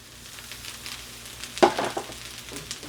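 Shrimp dropped into a hot pan of fried rice with egg, a steady soft sizzle underneath that swells into a sharper crackling burst as they land, close and continuous.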